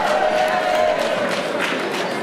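A French-speaking audience at a presentation claps in a brief, dense burst of applause, steady and close throughout with a few voices mixed in.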